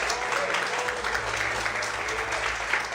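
A church congregation at a morning service applauds vigorously, a continuous loud wash of many hands clapping with a low hum beneath, filling the full three seconds.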